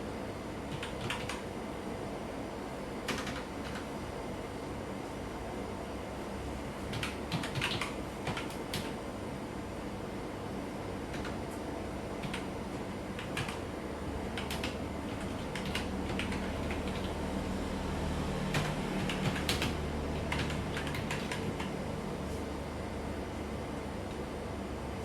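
Soft, irregular clicks of a computer keyboard being typed on come in scattered bursts over a constant background hum, faint and close, with no speech.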